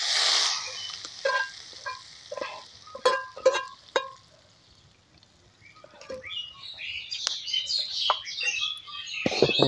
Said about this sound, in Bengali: একটু ভালো করে নেড়ে চেড়ে নিব, এগুলো মিশিয়ে একসাথে।